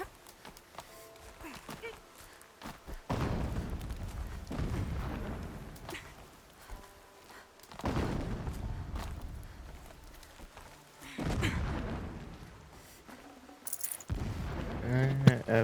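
Distant explosions rumble in the Horizon Zero Dawn video game, several deep, booming blasts spaced a few seconds apart amid game ambience, with a spoken voice mixed in.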